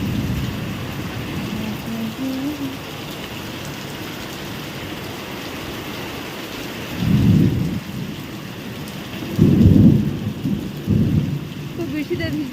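Heavy rain pours steadily while thunder rolls in several low, booming bursts toward the end, the downpour a constant hiss throughout.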